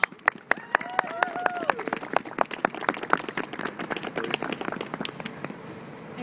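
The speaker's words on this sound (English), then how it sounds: "please join me in a great applause for our representatives" Outdoor rally crowd at City Hall in Worcester, Massachusetts, applauding for representatives on Human Trafficking Day, a few sharp early claps under a voice building into brisk, dense clapping that tapers off.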